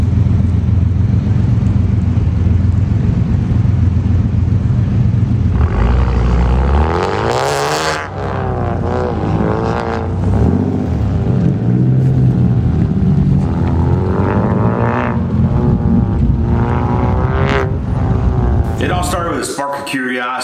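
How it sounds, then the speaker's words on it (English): Autocross cars tear around a course, engines roaring and revving loudly and continuously with rising and falling pitch, someone talking over the engine noise throughout. "Seeing those cars out there tearing up that autocross track."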